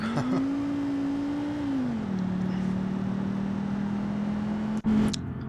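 A base-model 1990s Fiat Marea 1.6 in the driving game BeamNG.Drive, lapping the Nürburgring, gives a steady engine drone that climbs, drops at a gear change, then holds evenly, with a brief click near the end.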